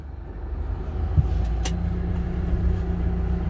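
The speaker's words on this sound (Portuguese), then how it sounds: "agora vamos fazer esse acionamento com o carro ligado e andando" A Mitsubishi Triton pickup with manual transmission runs and pulls away, its engine a steady low rumble with faint road noise building slightly, heard up close without talk.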